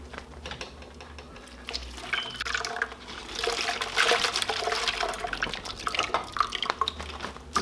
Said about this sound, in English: I still add water to the bag.